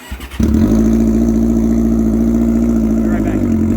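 Boosted crosskart engine fires up after a brief crank and holds a steady, loud, buzzy rev close by, running continuously for several seconds with no talking over it.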